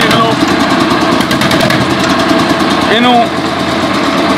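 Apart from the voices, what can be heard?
1964 DT-14 Russian tractor engine running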